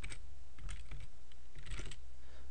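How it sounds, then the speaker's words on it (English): Typing on a computer keyboard: two short bursts of quick, close key clicks separated by a brief pause, clear and alone with no voice over them. "So in there, I'm just going to type Genesis."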